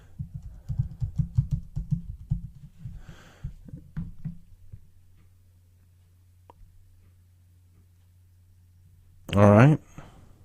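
Rapid, close clicks of typing on a computer keyboard run for about four seconds, then give way to a low steady hum and a brief loud burst near the end.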